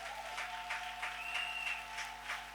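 A church congregation applauds in a steady, fairly loud patter of many hands, with sustained tones holding underneath the clapping.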